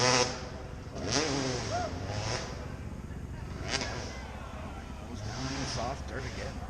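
Husqvarna dirt bike at a hill climb event, its engine revving and wavering in pitch as it climbs, heard close and loud with people talking over it.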